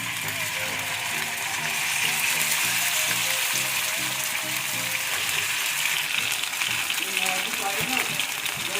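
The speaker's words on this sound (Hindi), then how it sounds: "गरम करने के बाद हम बोनलेस जो कि हमने 10 मिनट मैरिनेट किया था, इसको अब हम अच्छी तरह से फ्राई कर लेंगे" Boneless marinated chicken fries in hot ghee in a pan, giving a steady broad sizzle throughout, moderately loud, with a person speaking over it and some rhythmic clatter underneath.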